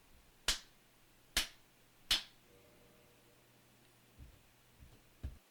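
Three sharp, loud hand claps picked up by a gaming setup's microphone, evenly spaced about a second apart, then a few fainter taps, all against a quiet background.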